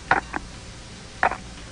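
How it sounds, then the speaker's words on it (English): Camera shutter clicks heard over a telephone line, two short mechanical clicks about a second apart, thin and slightly muffled against faint line hiss. "It's a camera."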